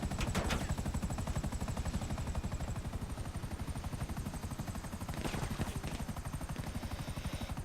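Steady, rapid thudding of helicopter rotor blades close by in GTA V Online, continuous throughout, with a brief swell of extra noise partway through.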